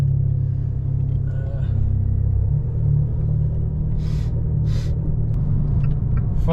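An Abarth 595 idles and cruises with a deep, loud, steady exhaust rumble heard from inside the car, the droning note holding throughout.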